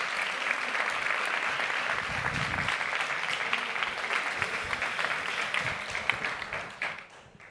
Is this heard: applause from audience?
yes